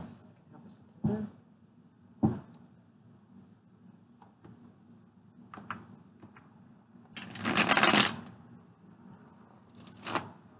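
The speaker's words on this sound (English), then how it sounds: "All right, one more shuffle, and we are there" Tarot cards being shuffled by hand, with a couple of sharp riffle bursts and a longer dense flutter of cards near the end, close up amid quiet pauses.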